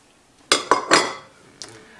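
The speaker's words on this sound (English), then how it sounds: "I'm going to put a cup of carrots in here, and I'm going to put a cup of celery" A cup of carrots and a cup of celery go into a cooking pot for turkey meat pie filling, giving three quick clattering knocks close together, then one softer knock a moment later.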